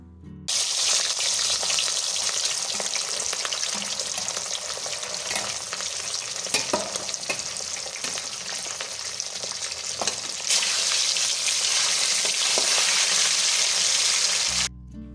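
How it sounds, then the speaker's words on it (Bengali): Katla fish pieces fry in hot oil, a loud dense continuous sizzle and crackle that holds steady for about fourteen seconds with brief sharp spits and a surge partway through. "এইরকমভাবে বাকি মাছগুলোকেও আমি ব্যাচ ওয়াইজ ভেজে নেব"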